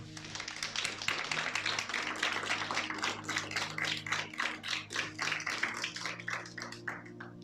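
Church congregation at a Christmas service clapping loudly and steadily together, a dense roomful of hands with a rhythmic pulse and sustained musical tones underneath.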